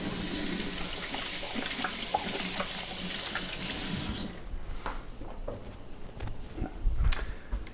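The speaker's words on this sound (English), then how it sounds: "wash my hands" Running tap water splashes steadily over hands at a kitchen sink between bread-baking steps, a continuous wet rush that thins out into scattered drips and splashes toward the end.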